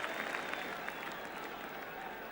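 Stadium crowd at a top-flight football match between Arsenal and Manchester United, applauding and cheering steadily throughout, a dense distant roar with no one speaking.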